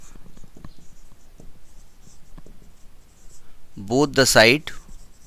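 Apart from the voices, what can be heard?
writing by hand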